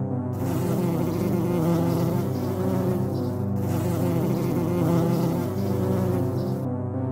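Cartoon bees buzzing as a swarm arrives, a loud continuous droning hum that holds steady with slight swells and dips, alone without talk, cutting off briefly midway before resuming.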